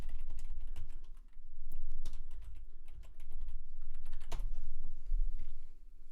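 Rapid clattering keystrokes on a computer keyboard as someone types a web search, close and steady, continuing throughout with short pauses.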